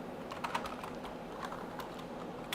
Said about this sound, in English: I'm typing live, like, it's a real thing